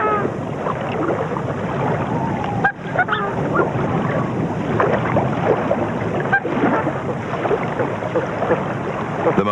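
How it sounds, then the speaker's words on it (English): Upland geese call from a grassland pool, a busy mix of overlapping honks and cackles from a family group, steady and close over a continuous outdoor background with no voices. "The most common birds of the grassland are upland geese, and every little pool has its family."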